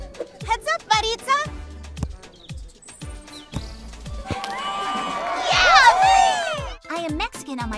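Crowd at a soccer game cheers loudly for a player, swelling to a dense roar with high whoops midway, after earlier stretches of children's voices talking and shouting nearby.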